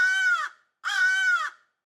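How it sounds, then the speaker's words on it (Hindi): A crow caws twice in an animated folk tale, two harsh drawn-out calls of about half a second each, loud and close, separated by a short silence and with no talk over them. "जब कौआ ने यह देखा तो तुरंत कौए ने आवाज"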